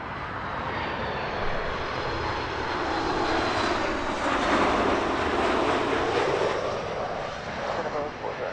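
Boeing 737 MAX 8 airliner passing overhead on a sunrise arrival at Heathrow, its engine roar building to a broad peak midway and then easing off as it moves away.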